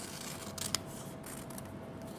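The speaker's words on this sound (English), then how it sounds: "And then I'm going to cut along that line." Scissors snip through paper along a drawn line while shaping a leaf for a laurel wreath crown, a couple of short crisp cuts close by against a quiet room.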